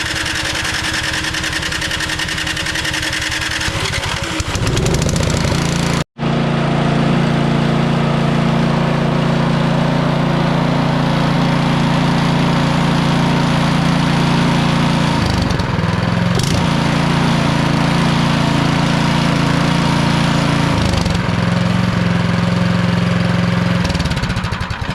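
A Craftsman snow blower's gas engine, on choke and electric start, runs loudly and close by. It cuts out abruptly for a moment, then roars back and runs on with an uneven, slightly surging drone.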